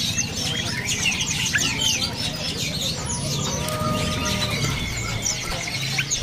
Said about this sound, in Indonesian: Ini ada burung kopi-kopi.